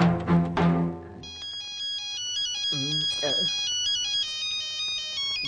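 A cell phone rings with a bright, repeating electronic melody that holds steady at moderate volume; a voice speaks briefly before it starts, and short vocal sounds break in partway through.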